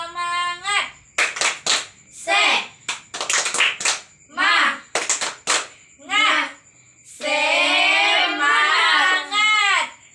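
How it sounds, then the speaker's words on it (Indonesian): A class of students does a rhythmic spirit clap, sharp bursts of hand claps in patterned groups, alternating with the group chanting and a teacher speaking nearby. "Tepuk semangat."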